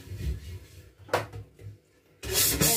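A plastic-bristle brush scrubs the metal parts of a grill toaster that have been rinsed in lukewarm water with liquid soap, giving bursts of close, rasping friction with short pauses between strokes.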